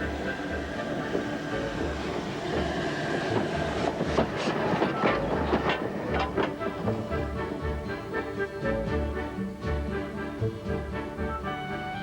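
The Black Prince steam locomotive on a little railway gives a close, continuous heavy rumble with rhythmic wheel clatter and clanking that holds steady throughout.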